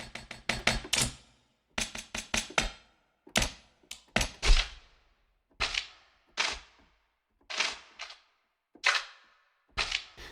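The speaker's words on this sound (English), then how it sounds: "you've got your paper sounds up here and metal ticks on the lower keys" Found-sound percussion patches from the Heavyocity Damage Machina sample library, crisp paper crackles and metal ticks played as short sharp hits in clustered bursts with silent gaps between them, close and dry, with no speech.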